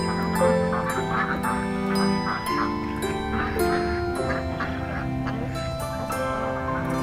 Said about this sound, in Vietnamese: Vịt bầy vun vút.